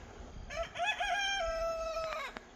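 Rooster crowing in a backyard chicken run: one clear, close cock-a-doodle-doo lasting about two seconds, with rising and held tonal notes over quiet surroundings.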